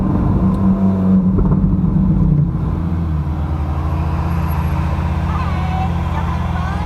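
A car is driven during a ride-along, with a low, steady engine hum and road rumble heard from inside the cabin. Voices talk over it in the opening seconds.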